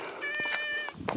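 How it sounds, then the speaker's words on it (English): Outdoors on a mountain path, a cat lets out one clear, drawn-out meow that sits close and fairly loud over a light background hum. "Cat."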